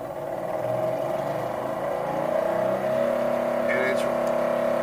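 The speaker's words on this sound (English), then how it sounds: "The homogenizer is here, and you'll hear it cut." A lab homogenizing mixer with an onboard vacuum pump whirs and climbs steadily in pitch as it runs up to full speed, a continuous moderately loud machine tone.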